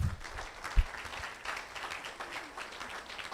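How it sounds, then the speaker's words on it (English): An audience at a school district safety summit meeting gives a short round of applause for staff members. The clapping is brief and fairly faint and sounds like it comes from a modest crowd in a room. "can we give them a round of applause?"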